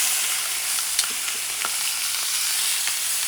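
Steak cooking on one side in a hot pan sizzles steadily and loudly, a dense frying hiss broken by a few sharp pops, close and uninterrupted.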